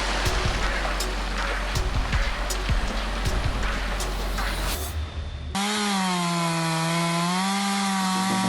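A big chainsaw cuts into an uprooted tree trunk, its raspy buzz close and loud with rough, uneven bite for about five seconds before giving way to a steady, wavering whine.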